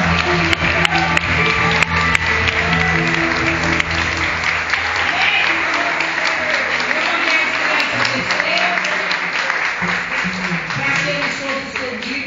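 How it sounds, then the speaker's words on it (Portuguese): Congregation clapping during a Pentecostal church festival service, loud, steady applause filling the room with low music or voices underneath throughout. "Vamos aplaudir ao Senhor."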